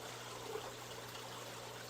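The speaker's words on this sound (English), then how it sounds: "the water comes out right down there from the filter." Water streams steadily out of the filter of an 800-gallon indoor pond, a constant soft trickling flow with an even, unbroken level throughout.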